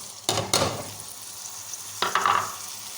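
Browned onions fry in a pot for chana dal curry as spices and tomato go in, two loud hissing bursts of sizzle over a quieter steady crackle, close by and without talking.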